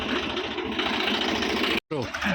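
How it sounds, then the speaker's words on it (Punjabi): A steady, rumbling tractor engine runs close by with a rattling mechanical drone, briefly cutting out near the end before resuming. "ਆ ਵੀ ਟਰੈਕਟਰ ਆ ਗਿਆ"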